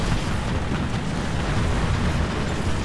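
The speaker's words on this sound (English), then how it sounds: "Alright, artillery's firing." Artillery fire in War Thunder, a continuous heavy rumbling roar of distant booms blending into one dense wall of low noise, loud and unbroken with no voices.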